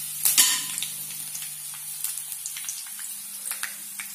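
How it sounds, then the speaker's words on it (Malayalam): Mustard seeds, red chillies and curry leaves dropped into hot oil: a sharp initial sizzle burst, then a steady crackle with scattered pops of seeds spluttering, close and fairly loud. "എണ്ണ ചൂടായി വരുമ്പോൾ കടുക്, ചുവന്ന മുളക്, കറിവേപ്പില ഇത് മൂന്നും കൂടി ഇട്ട് കൊടുക്കുക."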